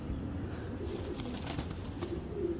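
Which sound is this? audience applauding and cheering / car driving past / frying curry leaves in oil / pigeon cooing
pigeon cooing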